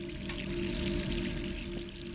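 Water runs steadily from a sink tap in Resident Evil 3, a continuous even pouring stream heard close and alone.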